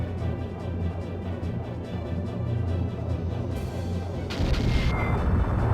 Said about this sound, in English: So the Ancient Cannon hit it,